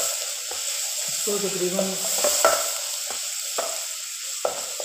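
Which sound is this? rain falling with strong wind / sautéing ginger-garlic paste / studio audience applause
sautéing ginger-garlic paste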